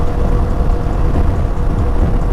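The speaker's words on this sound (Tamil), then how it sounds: "பாருங்கள், மழை திடீர்னு கூடுதா." Heavy rain pours down during a highway motorcycle ride on a Himalayan 450, a loud, dense, steady roar of rain and wind noise with no talk.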